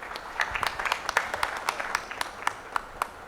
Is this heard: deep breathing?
no